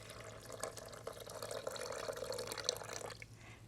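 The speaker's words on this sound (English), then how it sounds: "And then I'm going to put in my 3 cups of water." Three cups of water pour into a blender for pasta sauce, a steady splashing trickle lasting a few seconds before tapering off, close and moderately quiet.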